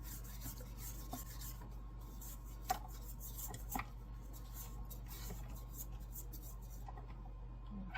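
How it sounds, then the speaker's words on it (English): A spatula scrapes the sides of a mixing bowl of creamed chocolate cupcake batter. The soft, continuous rubbing and rasping is punctuated by a few light knocks against the bowl, with a faint steady hum underneath. "I'm going to scrape the edges here"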